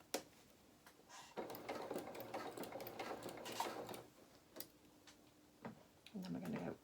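A sewing machine stitches a fabric seam on a small coat, running in short bursts of rapid mechanical ticking separated by brief pauses, close and fairly quiet.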